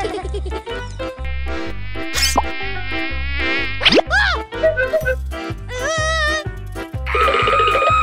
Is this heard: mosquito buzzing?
yes